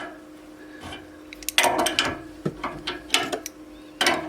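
A spanner working a tight nut on a household radiator, giving a series of ratcheting metallic clicks and scrapes in short bursts, close by and fairly loud, with no talking.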